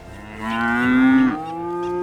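A loud, drawn-out cow moo nearby in a field, followed by another lower bellow, with no talking.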